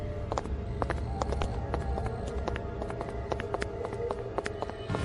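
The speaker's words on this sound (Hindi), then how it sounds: "लेकिन कुछ ही दूर आगे जाने के बाद पीछे कदमों की आवाज सुनाई देती है।" Quick, sharp footfalls tap along steadily over a low murmuring background, sounding like someone hurrying on foot a short distance away.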